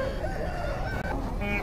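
Chickens and roosters at a crowded open-air market for country chickens, with a rooster crowing over steady clucking and dense background noise.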